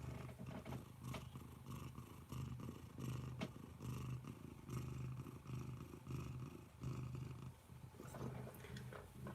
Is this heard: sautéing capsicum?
no